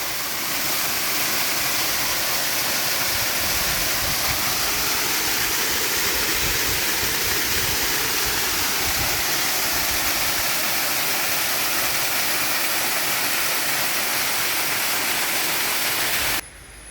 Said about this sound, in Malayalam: നമ്മുടെ സ്ഥലത്തിലുള്ള മറ്റൊരു വെള്ളച്ചാട്ടം ഇതാണ് കേട്ടോ